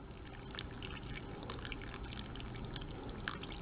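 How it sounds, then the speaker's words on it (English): Water pours steadily into a cup, a quiet continuous splashing trickle lasting a few seconds. "I'm going to go ahead and add my 10 ounces of water."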